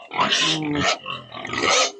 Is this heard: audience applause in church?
no